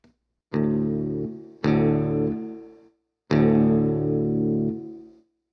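A Boss reverb pedal in modulation mode processes three sustained guitar chords, each ringing out with a slight wavering shimmer and a short tail before stopping; no voices.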